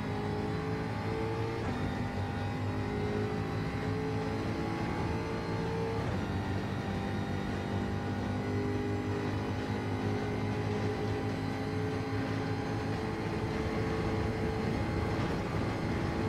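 Race cars including an Alfa Romeo and a Jaguar racing in Gran Turismo 7, steady loud engine drone with sustained high revving tones and slow pitch shifts, close and continuous, no talking.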